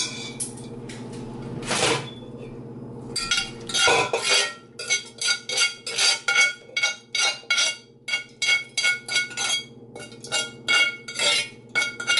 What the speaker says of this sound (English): And now I'm gonna add in the contents of the pan.